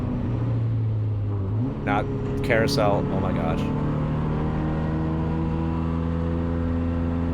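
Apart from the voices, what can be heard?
race car engine on a track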